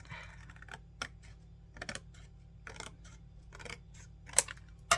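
Short scraping snips as craft card is trimmed to tidy up a cut while making easel cards, several separate faint strokes spread irregularly over a quiet background.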